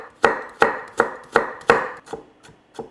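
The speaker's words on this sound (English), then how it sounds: "Cut the base off a little bit like so that your carrot doesn't wobble." A knife slices a carrot into long sticks for vegan white kimchi, striking a cutting board about eight times in a steady, crisp rhythm, with the last few cuts softer, close up and alone.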